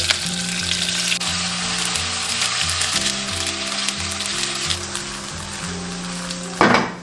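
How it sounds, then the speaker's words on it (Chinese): Tofu pan-frying over medium-low heat in a little cooking oil sizzles steadily and close up, with a rhythmic low hum running underneath and a brief louder burst near the end. "下入豆腐，中小火慢煎。"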